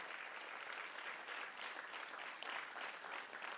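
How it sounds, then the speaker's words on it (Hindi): A theatre audience in Lucknow applauds two performers after the play Shikasta by Nipa Rangmandli, giving a dense, sustained round of clapping that rises and falls slightly and is recorded quietly from a distance. "जोरदार तालियां हमारे इन दोनों महारथियों के लिए"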